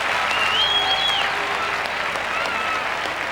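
Stadium crowd at a 1996 European Cup athletics meeting in Madrid applauding and cheering a British athlete, a dense, steady wash of clapping with a faint background voice over it throughout.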